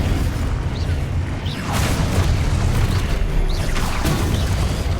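Expulso and Confringo spell explosions in the Hogwarts Legacy video game, heard as a continuous wall of loud booming blasts with repeated sharp bursts rising out of heavy low rumble.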